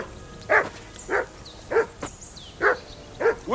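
A dog in the medieval game Kingdom Come: Deliverance II barks five or six times in a steady, evenly spaced series, mid-distance and clear, with no talking.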